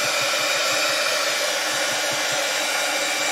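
Heat gun blowing steadily to heat-set ink during a live Halloween craft session, a close, loud broadband whoosh held constant throughout with a faint low pulsing underneath.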